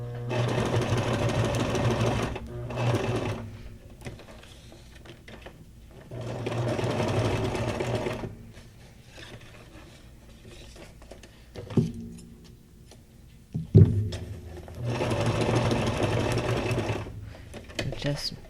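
A sewing machine runs a straight stitch through fabric scraps for junk journal pages, three long steady bursts of whirring with pauses between, close and fairly loud, with brief clicks during the quieter stretch.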